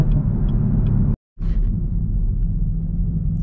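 A Chevrolet Camaro ZL1 with a six-speed manual cruises on back roads, its steady low engine rumble filling the cabin, broken by a brief dropout before the drone resumes.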